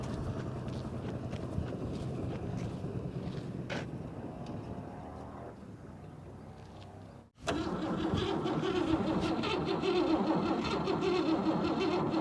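An abandoned 1957 Oldsmobile Rocket V8 with a carburetor in need of rebuild cranks over and over, goes briefly quiet, then fires and runs loudly and roughly after 30 years of sitting.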